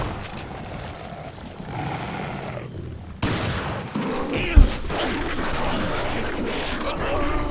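Loud shotgun blasts in a video game burst over a dense, noisy background, with one sharp heavy boom standing out midway; no talking.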